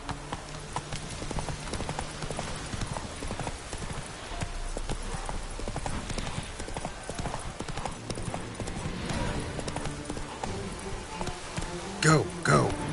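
Roach, the horse in The Witcher 3, gallops with quick rhythmic hoof clip-clops throughout, close and clear, with game ambience and occasional voices mixed in.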